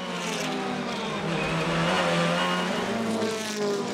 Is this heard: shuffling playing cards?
no